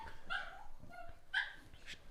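A little white fluffy dog barks in sharp, high yaps, with a couple of distinct bursts spread across a short indoor moment and no talk over them.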